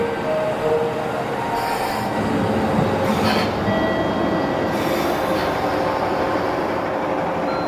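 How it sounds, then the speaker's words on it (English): A one-car diesel train on the Johoku line in Japan rolls past nearby with a steady loud rumble. Faint wheel squeal and brief brighter swells ride over it, and no one speaks. "This is a diesel train that's only one car."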